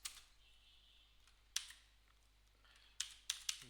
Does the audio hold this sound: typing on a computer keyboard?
yes